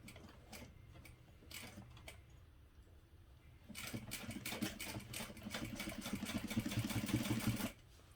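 A sewing machine top stitches a medium parachute knapsack with an eighth-inch seam allowance, running quietly at first with scattered ticks, then stitching faster and louder in a steady mechanical rhythm before stopping abruptly.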